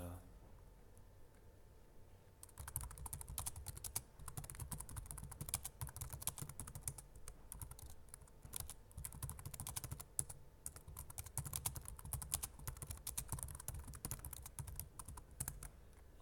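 Computer keyboard typing goes on as a steady, quiet patter of keystrokes for several seconds, with no talking over it.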